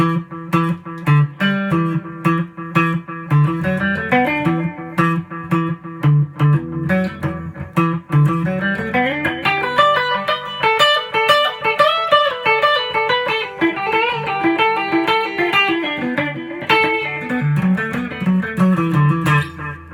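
An instrument runs through a delay effect with every control set to 12 o'clock, in a large room without reverb; sustained notes ring continuously with repeating echoes trailing each phrase, steady and moderately loud with no talking.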